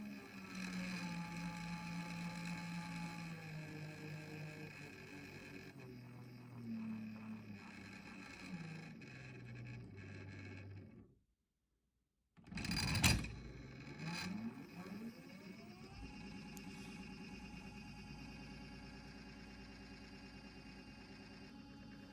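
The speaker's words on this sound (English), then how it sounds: "Now here I am controlling the speed of the motor with the potentiometer that's on the surface of the PCB" Small brushless DC motor on a cheap driver board, its speed set by a potentiometer, whining with stepped pitch drops, a brief silence as it stops, then a sharp restart and rising spin-up to a steady electric hum.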